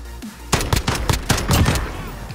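A quick volley of gunshots in a competitive video game match, loud and close, a dense cluster of sharp cracks over about two seconds after a short quiet lead-in.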